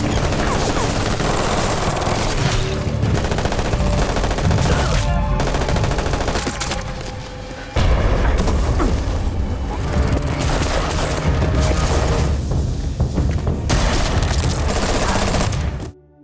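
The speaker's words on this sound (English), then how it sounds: "Cops tried to box him in and started shooting. Jake pulled out a machine gun and fired back." A film shootout in which police fire on a man who answers with a machine gun: dense, continuous bursts of automatic gunfire and booming shots, loud throughout, with a brief dip midway.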